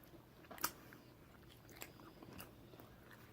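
Quiet chewing and biting of homemade one-minute s'mores, with one crisp bite early and soft, irregular mastication sounds following, close up and without talk.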